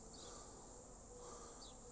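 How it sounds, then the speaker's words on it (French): Bees buzzing around a hive, a steady dense drone of many wings filling the air at close range, with faint higher chirps drifting over it and no voices. "vous avez une abeille qui est en train de diriger les autres et se préparer"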